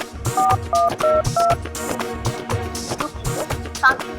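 A telephone keypad being dialed: a quick series of short paired electronic beeps, about five in a row, then a brief final cluster, heard close over a busy indoor background during a tense domestic scene.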